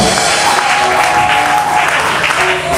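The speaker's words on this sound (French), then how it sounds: "Applaudissez quand même, non?" Sustained audience applause at a book launch ceremony in Kinshasa, a dense, loud clatter of many hands clapping steadily throughout without pause.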